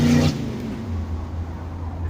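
A 1984 Chevrolet El Camino with a 350 bottom end accelerates hard, a deep engine roar swelling from a low cruise into a strong, sustained pull, loud and close, with a brief higher whine at the start.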